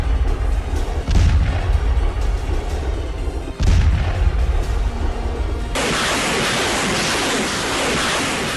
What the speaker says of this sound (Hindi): लेकिन फिलहाल रूस और यूक्रेन के बीच तोप और गोलों की आवाज सुनाई दे रही है।